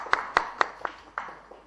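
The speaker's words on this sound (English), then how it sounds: "That was a clap." A lone pair of hands claps six times, sharp and close, at a steady pace that slows slightly toward the end, in a quiet room during a press conference.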